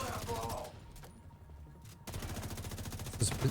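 Automatic weapons fire in the shooter game The Division 2, loud rapid bursts that pause for about a second and then resume in a fast, even rhythm.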